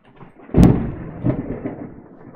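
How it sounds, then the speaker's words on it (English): A single loud thunderclap from an approaching storm in World of Warcraft, a sharp crack followed by a rolling rumble that fades over a couple of seconds, with no talk over it. "can you guys hear the thunder?"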